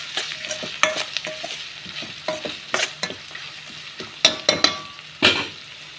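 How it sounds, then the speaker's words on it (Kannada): A spoon stirring a sizzling pan after salt is added: soft scraping and repeated sharp metallic taps over a low frying hiss, close by, with no talking. "ಉಪ್ಪನ್ನ ಹಾಕ್ಬಿಟ್ಟು ಮಿಕ್ಸ್ ಮಾಡ್ಕೊಳ್ಳಿ."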